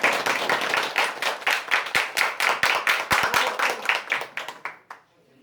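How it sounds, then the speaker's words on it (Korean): Audience applause for automotive students at a Yeosu technical high school event: a run of crisp, distinct hand claps at a quick, uneven pace that thins out and fades to quiet near the end. "우리 박수 한번 쳐주십시오"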